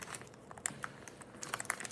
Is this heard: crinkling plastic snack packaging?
yes